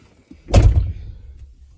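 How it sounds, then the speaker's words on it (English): A classic car's door swings shut with a single heavy thud that rings out briefly and fades, close by in an otherwise quiet space. "I'm gonna shut the door."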